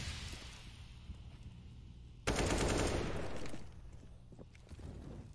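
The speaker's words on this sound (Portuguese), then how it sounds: "Troca tiros rolando aqui pela região da caverna" Gunfire trading in Counter-Strike on the Mirage map during a professional match, bursts of automatic fire that surge suddenly and loudly midway, then fade back to a low background of game noise.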